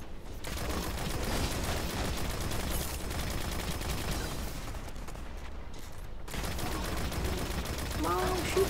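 Dense, rapid gunfire from shooting enemies in the video game Destiny, with sustained bursts of automatic fire and explosive pops close up, briefly dropping out before resuming loudly.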